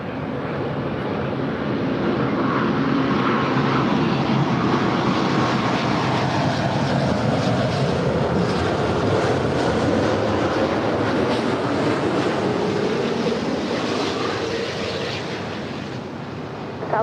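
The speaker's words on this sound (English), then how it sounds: "Also, the SAS Scandinavian A350-900 headed back to Copenhagen." SAS Scandinavian Airbus A350-900 jet engines at LAX, a loud, steady, broad roar that holds for the whole stretch, swelling slightly early on and easing toward the end, with no voices.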